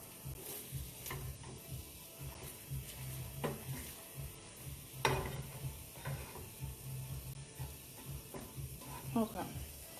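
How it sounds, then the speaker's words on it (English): Dirty rice being stirred in a pan, quiet sizzling with intermittent scraping strokes of a spoon, close up, and a voice talks at times. "I said I was going to stop stirring, but I can't help it."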